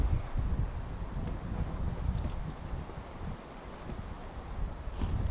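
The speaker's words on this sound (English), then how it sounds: "it is extremely windy today" Strong wind buffets the microphone in a steady roar with rising and falling gusts, loud and close, no voices.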